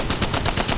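A Spitfire machine gun in the video game Apex Legends firing a rapid, evenly spaced burst of about seven loud shots in under a second, close and alone.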